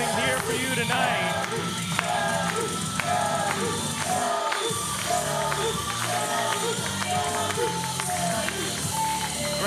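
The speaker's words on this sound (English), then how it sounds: "Crowd showing their appreciation for Alexis Lee." An indie pro wrestling crowd at a Texas showcase cheers and applauds steadily, a broad wash of voices and clapping, with a commentator talking over it.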